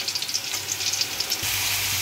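Winter vegetables fry in a pan after small kachki fish, giving a steady close sizzle and hiss that swells louder near the end, with no talking.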